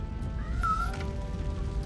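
A small cat meows in the video game RoboCop: Rogue City, with one clear, tonal mewl near the middle standing out over a steady low rumble of game ambience and fire.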